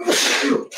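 A single loud, close human sneeze indoors, a sharp breathy burst lasting under a second.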